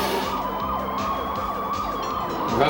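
A police car siren from the Sega/Tyco Video Driver game wails in repeated rising and falling sweeps over a continuous engine and road drone, loud and close throughout.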